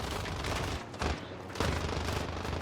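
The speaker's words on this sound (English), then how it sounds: "Somebody's shooting me through the window out there" Rapid, sustained gunfire fired through a window in Warzone Pacific, dense overlapping shots with a few sharper bursts, loud and continuous throughout with no talking.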